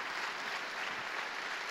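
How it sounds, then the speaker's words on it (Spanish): Steady applause from a church congregation during a Sunday morning service, a dense even wash of clapping held at moderate level throughout with no talk over it. "Dele fuerte ese aplauso a Dios."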